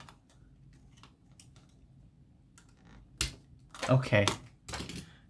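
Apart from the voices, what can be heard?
snapping mouse cables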